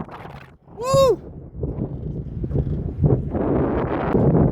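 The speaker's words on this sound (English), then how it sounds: "And boy, it's windy." Strong wind gusting beside a river during magnet fishing, buffeting the microphone as a rough, rising rumble, with a brief voice whoop near the start.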